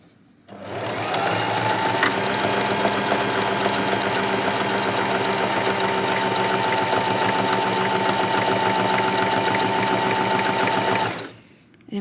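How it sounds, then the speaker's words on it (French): A sewing machine stitches a buttonhole on a shirt dress in one continuous, loud, close run of rapid rhythmic whirring that starts and stops cleanly. "Ça, c'est valable vraiment pour ma machine à coudre."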